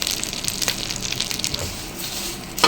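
Curry leaves hit hot oil in a pan, setting off a close, dense crackle and sputter of frying with small pops scattered throughout.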